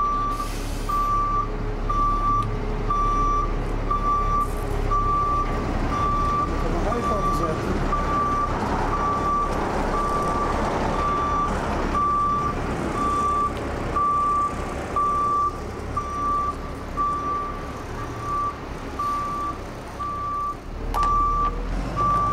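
Trucks reverse with a steady, loud series of evenly spaced warning beeps, over continuous engine rumble and a brief hiss of air brakes.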